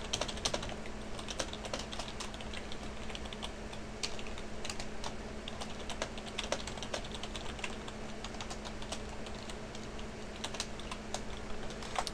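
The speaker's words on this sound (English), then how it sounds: "So I'm just going to type some here." Typing on a computer keyboard: a steady stream of quick, light key clicks at close range, quiet and even, with no voices.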